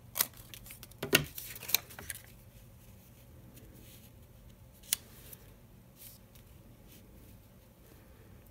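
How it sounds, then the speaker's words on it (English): Scissors snipping through a sheet of paper just inside a folded edge while making a budget journal page, a few quick close cuts near the start and one later, then quiet. "I'm going to fold it right on the edge of the paper and then cut just inside my fold"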